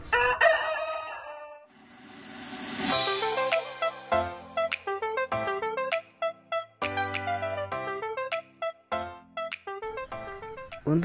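Chickens in an Indonesian poultry setting, with a rooster crowing loudly and several fowl calls over a busy, rhythmic musical backdrop with repeated plucked tones.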